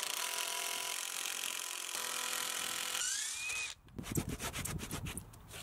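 Power saw cutting through existing timber gate rails, trimming them back to make room for hinges; steady loud sawing for about four seconds, then rougher, choppier cutting noise as the blade finishes, with no talking.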